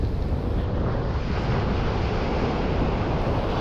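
Sea waves wash onto Bakkhali beach under strong wind, a continuous loud roar and rumble with wind buffeting the microphone, no voices.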